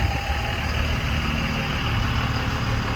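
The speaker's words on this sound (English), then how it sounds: "And loud truck." A diesel truck engine rumbles loudly and continuously nearby, a dense, steady roar that fills the whole moment without any talking.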